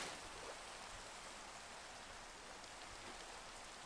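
Steady rain falls in the video game Minecraft, a soft even hiss of drops with no gaps, faint and continuous throughout.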